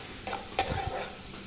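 Salted, turmeric-coated potatoes fry in a pan with a continuous sizzle, broken by a couple of quick stirring scrapes and a sharp utensil clink.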